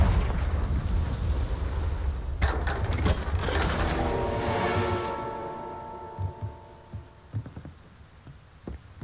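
A Confringo spell blast from the video game Hogwarts Legacy erupts in a loud burst of broadband crackle and rumble, then trails into ringing tones and a few softer clicks as it fades.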